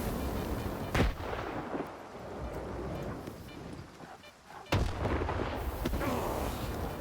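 Grenade blasts in the video game S.T.A.L.K.E.R. 2: Heart of Chornobyl, two sharp booming bursts about four seconds apart over continuous rumbling battle noise.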